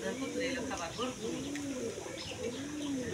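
A tame dove coos among pigeons at feeding time, giving repeated soft, rolling coo phrases in a steady rhythm, heard fairly close over a constant background hum.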